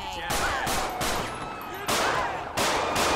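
Several loud gunshots ring out in GTA LSPDFR police gameplay, coming in sharp bursts with gaps between them over a steady background din.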